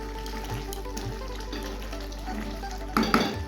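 Country chicken sautés in a pot and gets stirred, a soft sizzle running under faint scraping with a low steady hum, then a louder clatter of the spoon near the end, and nobody speaks.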